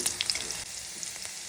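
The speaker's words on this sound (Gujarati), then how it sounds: "તેલ ગરમ થાય એટલે તેમાં ઝીણા સમારેલા લીલા મરચાં નાખી સાંતળી લઈશું." Finely chopped green chillies sizzle and crackle as they sauté in hot oil for a samosa filling, a close, steady frying hiss with small pops.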